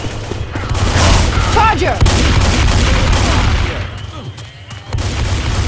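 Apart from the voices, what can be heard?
shotgun and gunfire in Left 4 Dead 2 video game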